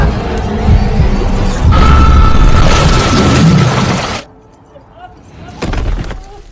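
A loud, sustained blast with heavy low rumble and crackling debris for several seconds, then it cuts off abruptly into quieter noise.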